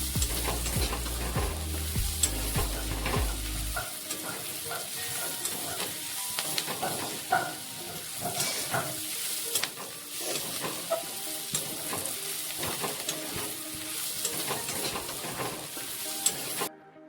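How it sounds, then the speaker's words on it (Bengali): Onions sizzle on low heat in a pan while a spatula scrapes and stirs at irregular intervals; brief music plays at the start. "পেঁয়াজগুলিকে গোল্ডেন কালার হওয়া অবধি ভেজে নিতে হবে"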